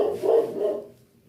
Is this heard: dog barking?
yes